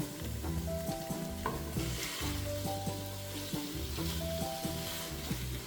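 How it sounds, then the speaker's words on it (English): Oil sizzles steadily as onion and carrot fry in vegetable oil in a pot, stirred and scraped, with utensil clinks and scrapes over a constant frying hiss. "In a pot, I will saute onion and carrot in vegetable oil, just a couple of minutes."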